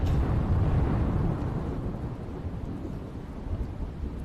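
A heavy monsoon downpour with gusting wind lashes Bhatia village in Gujarat, a dense, roaring wash of rain with deep thunder rumbling through it, loudest at the start and then easing slightly.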